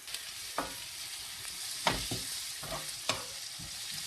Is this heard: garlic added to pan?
yes